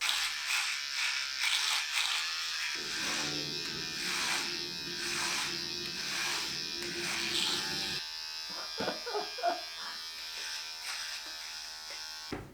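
An electric hair clipper shaves a head with a loud, close, continuous buzz whose tone shifts and drops as the blades bite into the hair, then changes again near the end.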